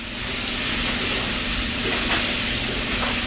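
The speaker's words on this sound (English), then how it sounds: "Add our apple slices. Get them all sauteed up." Apple slices sauteing in a pan give off a steady, close sizzle with a low hum beneath it, continuous throughout and with no talk.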